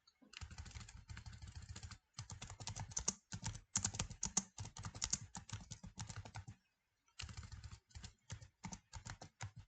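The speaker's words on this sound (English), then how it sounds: "And now we are going to type in a message that we want to type" Someone types a message on a computer keyboard, a close, quiet, fast run of key clicks in bursts, with short pauses between bursts and no talk.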